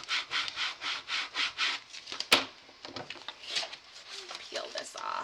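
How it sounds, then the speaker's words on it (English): A scraping tool rubs across the back of a transfer sheet in quick repeated strokes, a close, dry rasping rhythm with a sharp click midway. "take my scraping tool and scrape this across the back"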